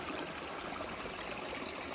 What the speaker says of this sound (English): Just walked down to this creek